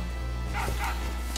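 A dog in the video game Final Fantasy VIII lets out two quick, close barks over a steady low game hum.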